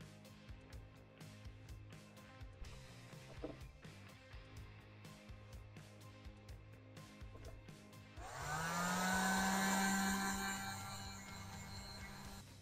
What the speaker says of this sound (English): These heat guns are really, really good at just softening up the surface of your sculpt.